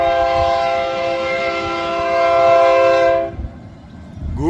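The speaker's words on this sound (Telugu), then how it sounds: "ఏదో పెద్ద ట్రైన్ వెళ్తున్నట్టుంది వెనకాల." A long BNSF freight train, said to haul about two hundred cars, passes behind, its horn blowing as a loud, steady chord for about three seconds before cutting off, leaving only the low rumble and rattle of the rolling train.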